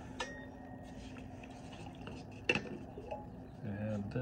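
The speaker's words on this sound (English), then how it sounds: "this zebra pot with my spacer in the bottom" A zebra-brand steel cooking pot with a spacer set in its bottom is handled at camp, giving a few light metallic clinks and knocks, one sharper clank midway, against quiet background with a voice nearby.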